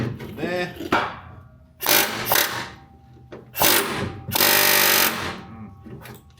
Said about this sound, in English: So I'm gonna get flat the chisel there.